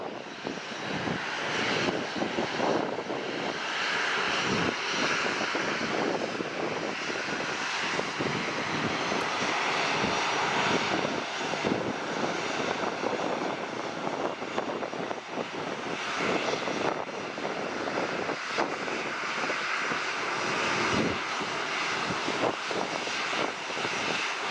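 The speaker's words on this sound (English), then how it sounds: "Oh, we got another takeoff" An airliner taking off at Dallas Love Field, a loud sustained roar of engines building and holding steady for the full length, broadband and powerful with no voices over it.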